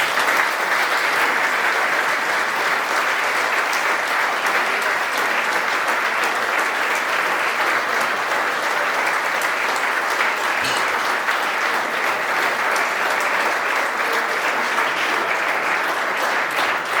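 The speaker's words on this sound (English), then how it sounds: "So let's do a big round of applause." Sustained applause from an audience at a football club fan event meeting the owners, a dense, even roar of many hands clapping that holds steady throughout, loud and close.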